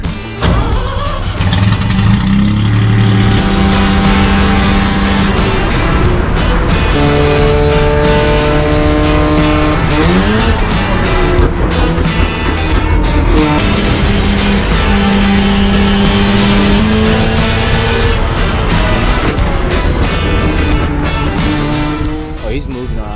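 Mazda RX-7 race car driving hard around a track corner, its engine loud and continuous with rising and falling revs through shifts, while people talk over it.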